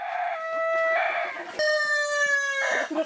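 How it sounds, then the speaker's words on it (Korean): A rooster escaped from its pen crows among hens in a mountain farmyard in Muju, two long harmonic calls close and loud, with faint clucking in between. "경리장에서 탈출한 수탉이 또 암탉을 못 살게 굴었군요."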